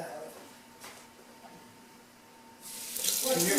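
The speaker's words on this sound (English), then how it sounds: "I'm gonna go wash my hands" Tap water splashes into a sink for hand washing, starting abruptly near the end as a loud, steady rush after a quieter stretch of room noise.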